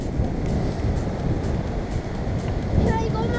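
Cold North Sea surf washing onto a sandy beach at Tentsmuir, a broad steady wash of breaking waves with wind buffeting the microphone throughout, swelling slightly near the end.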